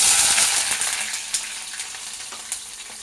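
Bay leaf and onions dropped into very hot oil give a loud, bright sizzle that fades to a steadier hiss, with a few sharp pops and ticks.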